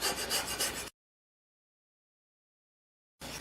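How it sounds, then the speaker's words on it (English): A file is drawn across a metal part being smoothed for a mandolin in one short rasping stroke, then silence, with a brief second stroke starting at the very end. "I'm going to use a draw filing technique to smooth it out even more"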